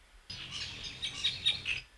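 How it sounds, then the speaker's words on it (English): Bird chirps and tweets added into a breaks tune, a string of bright repeated calls over a low droning bed, close and moderately loud, with no talking. "put some bird sounds into our breaks tune"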